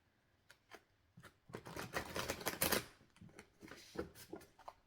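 A new, stiff tarot deck being shuffled by hand close up, a series of quick riffling bursts and soft flicks that swell into a dense flurry midway, then taper into lighter taps.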